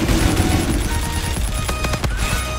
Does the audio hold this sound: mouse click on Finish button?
no